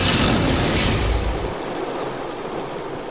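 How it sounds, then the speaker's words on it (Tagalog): Heavy downpour over Metro Manila at night, a loud, dense roar of rain that surges strongly for the first second and a half, then settles into a steady, slightly softer wash. "Galit na galit at parang wala ng bukas ang buhos ng ulan sa malaking bahagi ng Metro Manila kagabi"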